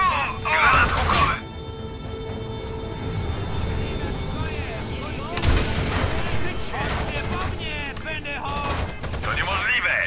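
A flashbang grenade goes off mid-firefight in Rainbow Six Vegas, one sharp bang rising out of ongoing gunfire and crackle while voices call out.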